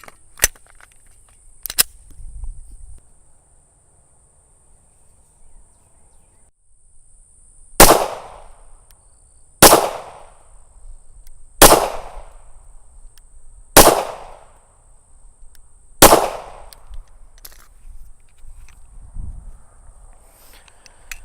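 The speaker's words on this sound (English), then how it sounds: "let's put rounds down range" A Smith & Wesson M&P 2.0 9mm pistol fires five sharp, loud shots downrange at an even, unhurried pace, with a few faint clicks and handling noises in the quieter stretches before and after.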